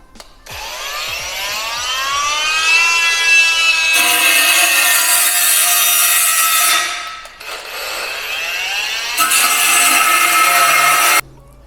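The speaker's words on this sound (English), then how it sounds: "we're just having to trim that edge off of the backing plate" A power tool trims the edge off an Audi TT brake backing plate with a loud grinding whine that climbs in pitch. It runs in about three bursts with short pauses between them.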